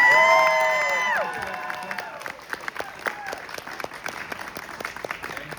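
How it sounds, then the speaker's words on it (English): An audience at an Indiana Comic Con JAG panel breaks into applause after a brief voiced tone at the start. The clapping is scattered, moderately close and thins steadily. "big round of applause for her"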